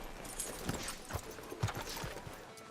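Horse hooves clip-clop at a walking pace in the Western video game Red Dead Redemption 2, with several soft, evenly spaced thuds heard at moderate distance over a quiet background and no talk.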